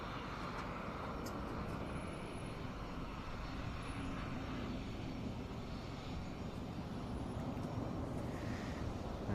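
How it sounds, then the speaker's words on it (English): Boeing C-17 Globemaster military transport aircraft arriving at an air show, a steady broadband engine roar holding at a constant level throughout, with no voices. "And the Globemaster, an aircraft that ended up in RAF service almost by mistake"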